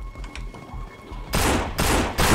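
Quiet background gives way to loud bursts of rapid gunfire, three harsh volleys in quick succession close up, in the video game No More Room in Hell.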